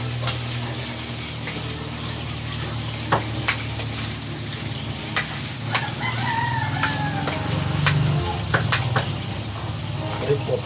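Pork belly for humba sizzles in oil in a Visayan home kitchen, a steady close crackle with spoon clinks, while a rooster crows and hens cluck nearby and someone talks.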